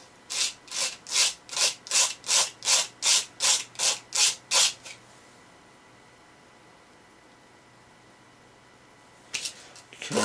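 A knife blade is reprofiled on a sharpener: eleven quick, even rasping strokes scrape in a steady rhythm, then a long quiet pause before the grinding starts again at the end.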